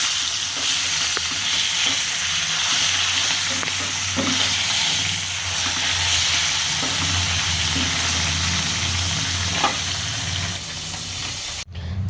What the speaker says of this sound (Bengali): তো মাছটা এবার আমি উল্টে দেবো।